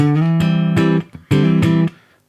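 A clean electric guitar through a Quad Cortex preset rings out two strummed chords, each sustaining briefly before being cut off, ending in quiet decay.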